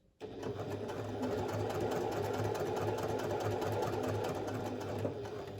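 A sewing machine runs steadily, stitching the seam of a fabric pouch in one continuous close-up burst that starts abruptly after a brief quiet moment.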